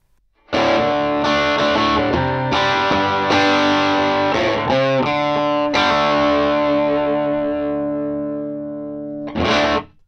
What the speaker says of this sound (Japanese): グランジーな歪んだサウンド